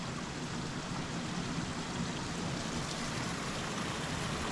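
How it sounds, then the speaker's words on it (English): Water pouring and dripping from icy falls on a shaded winter trail, a steady broadband rushing and splashing that holds constant and moderately quiet, with no talking. "then you just have these dripping falls"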